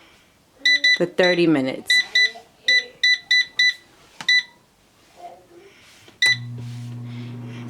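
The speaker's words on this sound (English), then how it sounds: "I'm going to turn the air fryer on, put it on 360" An air fryer's control panel gives a quick run of short, sharp electronic beeps as the temperature is set, with a brief spoken phrase partway through, then the appliance's steady fan hum starts.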